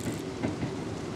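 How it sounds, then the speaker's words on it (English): A train passes close by at night, a steady loud rumble with faint rhythmic wheel clatter and no voices over it. "There's a train right here."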